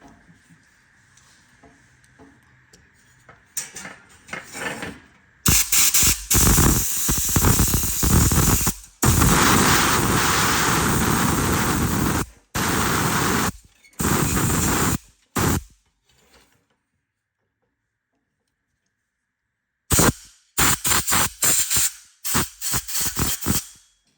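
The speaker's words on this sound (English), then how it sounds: "So I've got compressed air." Compressed air blasts across an opening on a propane tank heater to draw out dust, coming in loud broadband bursts of varying length with short gaps and a long pause before a final cluster of quick spurts.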